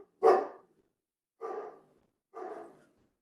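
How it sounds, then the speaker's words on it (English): A dog barks three times, close and loud, with short pauses between; the first bark is strongest and the next two softer, with no talk over them. "pause there, let my dog bark"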